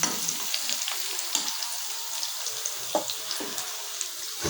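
Onions frying in a pan, a steady faint sizzle with scattered crackles and light stirring clicks, no voices.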